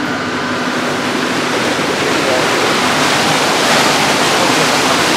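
Water released from a hydroelectric power plant near Manali rushes back into the river in a loud, continuous roar of broadband noise that stays steady and close throughout.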